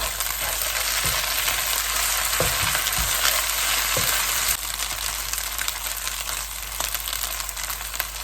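Fresh rice noodles with sauce stir-fry in a hot pan, a steady loud sizzle broken by several scraping and tapping strokes of the spatula, easing slightly toward the end.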